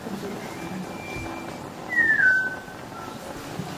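A faint, thin whistled tone drifts in early, then a brighter, louder whistle slides downward briefly before fading, over a quiet room background, during an Alchemy synthesizer demo.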